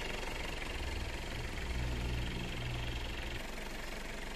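A Mitsubishi Pajero with a 4M40 diesel engine and a newly installed aluminum radiator idling while it warms up, a steady, faint low rumble that continues evenly with no voices.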